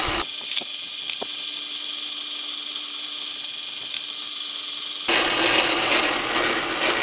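A lathe drills a center hole in a metal spacer for a chuck backplate. It makes a loud, steady whirring grind with a constant tone and occasional clicks, then shifts abruptly to a harsher, brighter hiss near the end.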